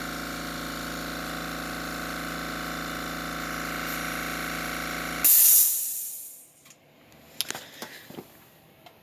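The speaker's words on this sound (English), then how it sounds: "This is a 220 big air compressor." A large 220-volt air compressor with double pistons runs with a loud steady hum, then stops with a sharp hiss of released air. Quiet clanks and small knocks follow in a now-quiet garage.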